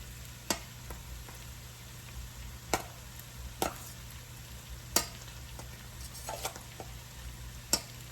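Rice tossed with a large batch of cooked vegetables for Singapore veg fried rice, heard as a low, faint sizzle with occasional sharp spatula taps against the pan.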